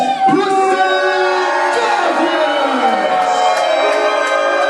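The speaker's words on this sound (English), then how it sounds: "the crowd once again reinvesting in making sure that Preston Douglas knows how they feel about him" A wrestling crowd at an indie show cheers and whoops loudly and continuously, with shrill shouts and whistles rising over the roar.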